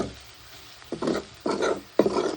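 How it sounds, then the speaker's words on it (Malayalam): Beef sautéed with turmeric and coriander powder in a pan: three short, loud bursts of scraping and sizzle as the pieces are stirred, separated by quieter stretches. "നന്നായിട്ടൊന്ന് വഴറ്റിയെടുക്കുക."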